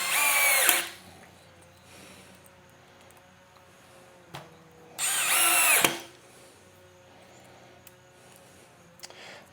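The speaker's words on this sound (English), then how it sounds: "when we just go to drill, this should drive this right home. Drywall screws, this is just a pressure treated 6x6." A Milwaukee M12 installation driver drives drywall screws into a pressure-treated 6x6 in two short, loud whirring bursts, with quiet pauses and small clicks between them.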